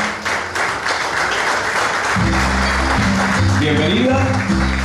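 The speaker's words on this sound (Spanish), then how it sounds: "Los aplausos son entonces para la licenciada Elsa Valenzuela de Mexicanos." Audience applause rises at a ceremony of the Juegos Florales in La Democracia, Escuintla, a dense clapping wash that gives way to music and a voice over a loud hall.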